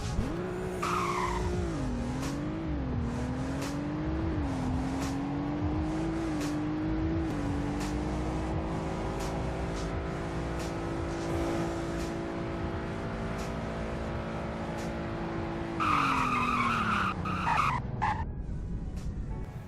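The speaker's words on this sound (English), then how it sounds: "here's a 0 to 100 in braking test" A car in a Roblox video game braking hard from 100, its engine tone sliding down as the tires squeal and skid, then a second burst of screeching near the end, loud and continuous with no voices.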